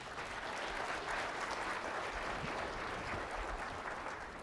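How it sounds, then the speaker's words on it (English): Conference audience giving sustained applause, a dense, even wash of many hands clapping continuously from a mid-distance without any break. "Give yourselves a round of applause."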